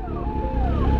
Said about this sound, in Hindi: बट आगे भाई बहुत ज़्यादा ट्रैफिक है यार